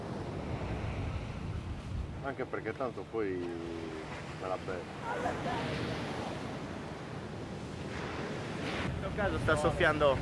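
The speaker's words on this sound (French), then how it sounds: "avec le temps gris, le vent et la mer agitée" A gregale wind buffets the microphone over rough, crashing sea waves on the Sardinian coast, with voices and shouts breaking through the steady roar.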